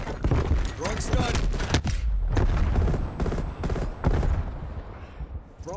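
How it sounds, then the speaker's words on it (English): A stun grenade goes off in Call of Duty: Cold War, leaving a sustained high-pitched ringing tone, while sharp bursts of gunfire crack around it and voices speak over the action. "Throwing stun."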